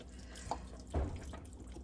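Stock is poured into a soup pot, a soft steady liquid splash that swells briefly near the end, heard alone and fairly quiet.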